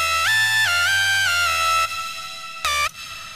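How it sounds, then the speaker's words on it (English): Serum synth trap lead with a multiband-compressed reverb tail: a bright, buzzy lead sliding between a few held notes over a low bass tone, then a short stab, each release leaving a soft, smooth reverb tail. "it's also going to multiband compress the reverb. So you'll get a very, very nice reverb tail."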